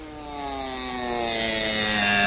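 A propeller airplane drones overhead with a steady harmonic hum that slowly grows louder and drops slightly in pitch as it passes.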